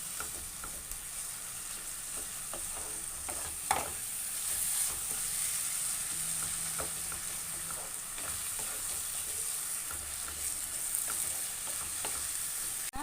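Chopped tomatoes sauté in oil for Tamil thakkali thokku, a steady sizzle running throughout with occasional scrapes of a stirring spoon against the pan and no voices.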